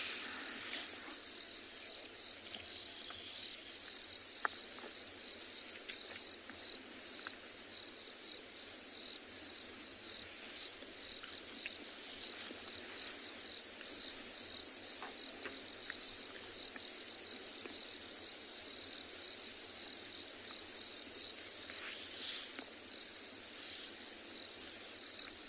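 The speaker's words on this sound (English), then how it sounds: "There's lots of crickets" Crickets chirp steadily at sunset in the wild, a dense, continuous high trill filling the whole stretch with a few brief louder calls rising out of the chorus, no voices present.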